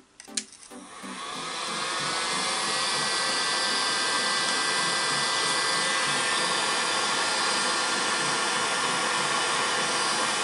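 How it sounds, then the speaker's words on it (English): A heat gun blows on a foam fireball prop to reshape it. It rises quickly to a loud, steady, close whooshing roar that holds without a break to the end. "you can always heat gun them again just to sort of get the shape the way you want it"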